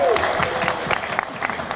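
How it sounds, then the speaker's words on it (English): A fan convention audience claps loudly and steadily for a sign language interpreter, a broad continuous wash of applause with voices underneath. "Give her a big round of applause."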